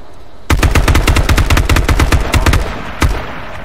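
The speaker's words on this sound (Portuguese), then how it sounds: "Estão trocando tiro." Rapid automatic gunfire in the battle royale video game H1Z1, a loud, dense burst of evenly spaced shots lasting about two seconds, then one final shot after a short pause.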